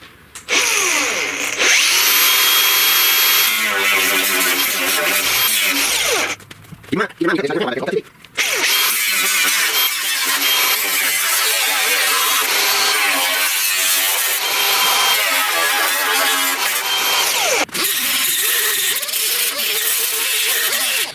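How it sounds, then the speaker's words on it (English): Power tool cutting a rusty fender patch on a 1969 Chevrolet C10: a loud, continuous, high-pitched grinding whine that runs almost throughout, with a few brief pauses. "I'm going to show cutting this little patch out right quick"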